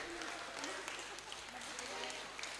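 Steady audience applause fills a healing service, a dense, even patter of many hands clapping throughout with no clear break.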